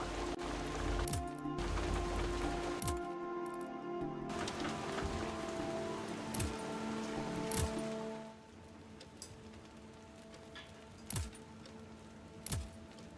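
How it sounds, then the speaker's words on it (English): Steady rain falls throughout a WWI hospital management strategy game, a dense continuous patter with a few sharper drips and clicks, quieter and thinner after about eight seconds, with no talking. "Oh, the rain."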